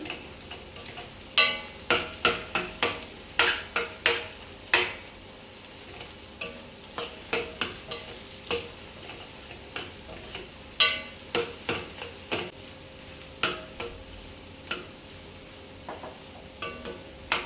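Beaten egg frying in a pan for egg fried rice, broken into small pieces with a spatula: a steady sizzle under repeated sharp, close scraping strokes at an uneven rhythm.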